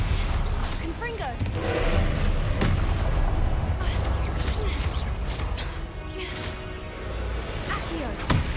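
Repeated booming blasts of the Confringo fire spell in the Hogwarts Legacy video game, dense and rumbling amid combat noise and effects.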